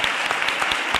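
Audience applause at a humorous talk, a dense spread of clapping that holds steady and fairly loud for about a second, with no voices over it.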